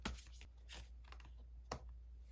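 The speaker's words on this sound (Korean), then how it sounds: "마지막 조언 카드 한 장 뽑아 볼게요" A tarot card drawn from the deck during a reading, heard as a quick series of soft papery shuffles and flicks close by, with a sharper snap near the end and no talking.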